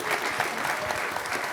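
An audience applauds guests at a summer cookout event, steady dense clapping from many hands filling the whole moment without a break.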